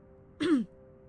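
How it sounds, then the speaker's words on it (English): One small, brief cough sounds once in a quiet foyer, soft and isolated against a faint background hum. "Suddenly, a small cough sounds against the walls of the foyer, interrupting our banter."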